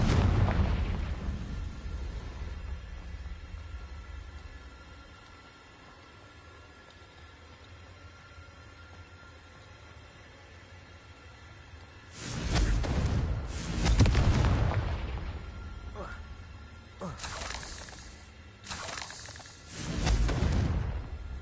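Blasts from the Confringo fire spell in Hogwarts Legacy, a quiet stretch followed by several loud booming explosions in quick succession near the end, each with a rumbling tail.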